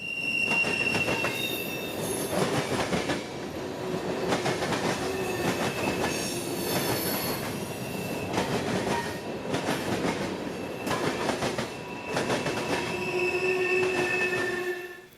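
A CSX freight train with an AC-44 locomotive rolls past at a Plant City, Florida railfanning spot, its wagons clattering rhythmically with repeated wheel squeals, loud and close throughout.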